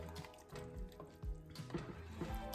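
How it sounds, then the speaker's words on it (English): A spoon works through a watery spaghetti sauce in a pan, with soft scraping and sloshing strokes over a low, steady simmering hiss. The sound is close and fairly quiet, and no one speaks. "So we're gonna stir that up"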